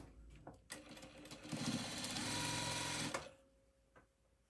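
A sewing machine stitches quilt blocks together in one steady, close run of about two and a half seconds, starting and stopping cleanly with quiet handling noises before and after.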